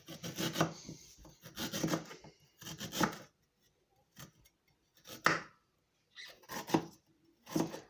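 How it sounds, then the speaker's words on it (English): Ginger being chopped into small pieces with a knife on a board, giving bursts of quick, close, dry cuts that come in several separate runs, with pauses between them. "cut it up in small pieces"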